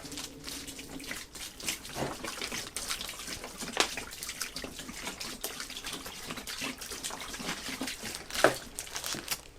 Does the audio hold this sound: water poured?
yes